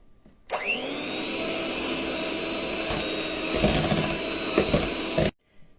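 An electric mixer whips 200 grams of soft butter for cake cream, its motor starting abruptly, then holding a steady whirring whine with beater rattle for about five seconds before cutting off.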